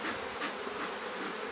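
Honeybees buzz continuously at an open beehive, a close, dense, steady drone with slight swells and no talking.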